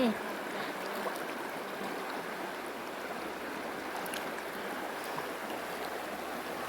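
Steady rushing stream water flowing over rocks, a continuous broadband wash close by with no pauses, alone without voices.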